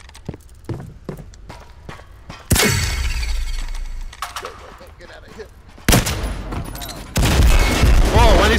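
Gunfire and grenade blasts in the shooter game Firewall Zero Hour: rapid, sharp shots early on, then three loud, sudden bursts of explosive noise, each one harsh and sustained, close and dominating.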